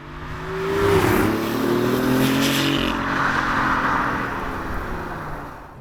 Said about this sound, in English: When you actually go full throttle, you can just hear the electric motors like wind up, basically.